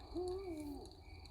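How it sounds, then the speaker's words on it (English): An owl gives a single soft, distant hoot in a quiet nighttime setting near a fire. "Owl in the back, letting everyone know that she's keeping an eye out."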